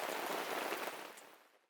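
Light drizzle falls at a family campsite in Pangalengan, a faint, soft, steady patter of drops that fades toward the end.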